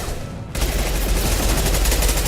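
A Shuriken submachine gun in Mass Effect 2 fires a rapid, continuous burst that starts abruptly after a brief quiet moment and stays loud and dense to the end.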